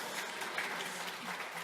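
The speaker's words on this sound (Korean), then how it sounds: "박수 한번 하시죠." A church congregation applauds in a dense, steady wash of clapping, moderately loud and even throughout, with no voices rising above it.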